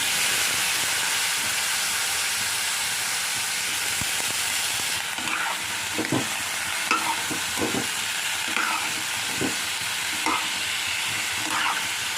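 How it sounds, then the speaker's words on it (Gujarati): Ivy gourd and potato curry tempered in a hot pan sizzles with a constant hiss, and a series of scraping stirs and clinks sounds close by from about halfway on. "વઘારી લીધું શાક અને મીઠું નાખીને થોડીક વાર આપણે ઢાંકીને ચડવા દઈશું"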